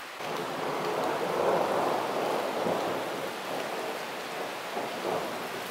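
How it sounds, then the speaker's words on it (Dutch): A thunderstorm in Turkey brings heavy rain pouring steadily, with a low rumble of thunder rolling beneath the dense hiss of falling water. "dit is echt noodweer. Noodweer in Turkije."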